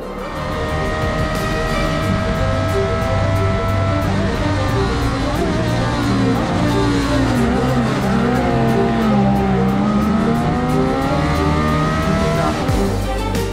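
A Sierra RX3 race car climbs the Pikes Peak hillclimb through twisty corners. Its engine roars loud and close, pitch rising and falling through gear changes, with brief tire squeal and no voices over it.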